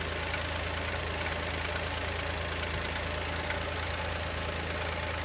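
Knocking noise from the naturally aspirated engine of a new Chevrolet Onix, heard as a steady, dense mechanical clatter and drone, close and continuous throughout with no talking.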